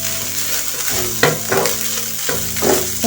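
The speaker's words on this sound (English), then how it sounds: "then you stir it for some few minutes like this" Samosa filling is stirred in a hot pan, a spoon scraping in several loud strokes over a continuous sizzle of frying.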